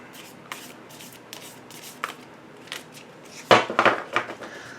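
A deck of tarot cards is shuffled by hand, with a few soft separate flicks and slides and then a louder riffling burst of cards near the end, close and with no talk.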